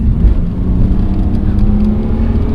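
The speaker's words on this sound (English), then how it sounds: "the engine's fully warmed up now, so I can rev it out a little bit" A fully warmed-up BMW 330ci Clubsport engine revs steadily with a deep, continuous low rumble, loud and close, with no voices.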